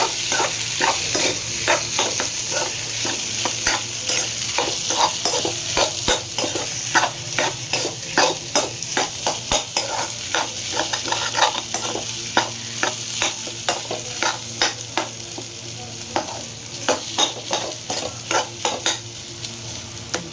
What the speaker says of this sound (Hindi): थोड़ा सा स्वाद के अनुसार नमक, थोड़ी सी मिर्चा, लाल मिर्चा, थोड़ी सी हल्दी, थोड़ा सा धनिया पाउडर, और इन सबको हम कर देंगे मिक्स।